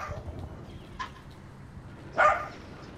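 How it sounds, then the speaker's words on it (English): A dog barks once in the Call of Duty: Infinite Warfare game, a short, fairly loud bark standing out over quiet background game noise, with a fainter yelp earlier. "This fucking dog."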